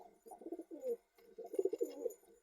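An all-white pigeon with black eyes and feathered feet coos up close in low, rolling phrases, two bursts separated by a brief pause, faint but clear over quiet background.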